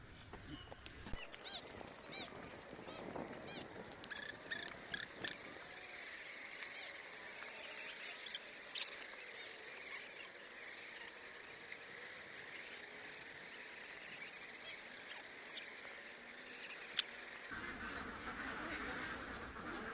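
A flock of egg-laying ducks quacks and squeals continuously on a duck farm, many birds calling at once, fairly loud and close, with occasional knocks and bumps nearby.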